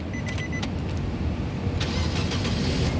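A 1.8-litre Nissan Grand Livina, a 2007 automatic, cranks and fires up, its engine turning over steadily and close by with a few brief clicks and whirs over the running motor.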